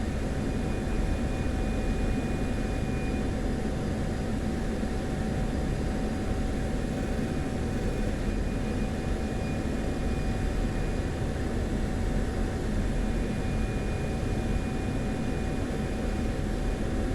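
A jet aircraft in the DCS flight simulator game gives a steady, close, unbroken roar with a faint high whine, holding at constant loudness throughout with no talk.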